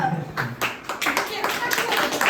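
A family claps at a Diwali terrace party: quick uneven hand claps from a small group, close by, mixed with people talking over them.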